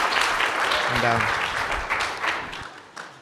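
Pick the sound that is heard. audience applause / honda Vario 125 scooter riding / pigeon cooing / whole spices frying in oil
audience applause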